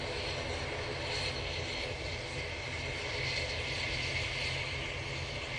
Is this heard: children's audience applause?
no